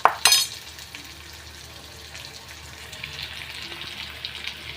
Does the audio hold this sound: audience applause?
no